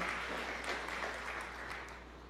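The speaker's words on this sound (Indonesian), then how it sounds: "Berikan tepuk tangan yang meriah." A church congregation at a sermon breaks into a brief, lively round of clapping, heard at a moderate distance with a steady low hum underneath.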